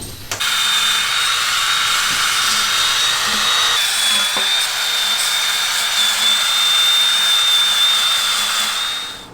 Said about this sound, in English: I'll just sand it down.